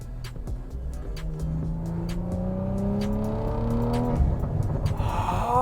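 A 2023 BMW M340i's B58 engine revs hard, its pitch climbing steadily through the gears, with a quick shift near the end before it pulls again.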